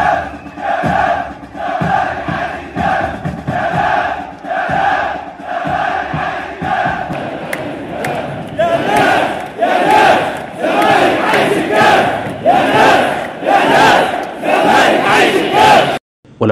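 Zamalek supporters in a packed football stadium on a championship night chant in loud, rhythmic unison, pulsing beats of massed voices that swell and grow fuller in the second half before cutting off abruptly.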